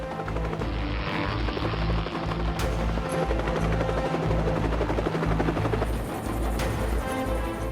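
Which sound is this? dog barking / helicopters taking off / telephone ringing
helicopters taking off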